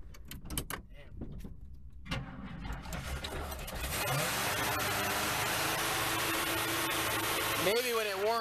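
A car engine caught running at too-high RPM: after a few knocks and a start-up, a steady loud engine drone holds, with a brief rising whine near the end and a voice speaking over it.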